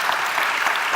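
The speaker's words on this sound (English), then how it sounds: "Please join me in giving a round of applause to say thank you to all of our speakers." A conference audience claps in a sustained round of applause for the summit's speakers, a dense, even wash of many hands throughout with no pauses.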